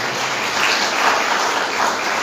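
A brief burst of dense hand clapping from a congregation at a Sunday church service, even and continuous with no talking.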